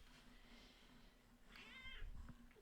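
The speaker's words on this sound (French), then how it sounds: "Oh oui, petit chat." A cat meows indoors, a short rising-falling call near the end after a quiet stretch of soft room noise.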